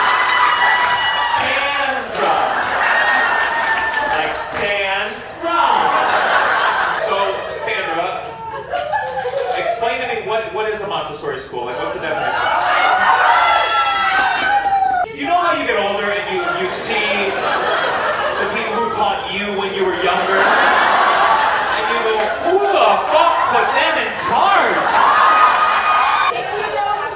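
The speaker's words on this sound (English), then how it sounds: "All right, enough with the cheering." An audience at a stand-up comedy show cheers and laughs in loud, swelling waves that rise and fall throughout, with a comedian talking over and between them.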